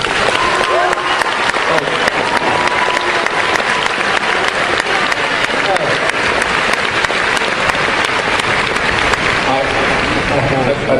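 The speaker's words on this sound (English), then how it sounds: "it's terrible there are people who clap absolutely anything" An audience at a 2009 debate between Christopher Hitchens and Dinesh D'Souza on whether God exists breaks into loud, sustained applause that fills the hall for about eleven seconds.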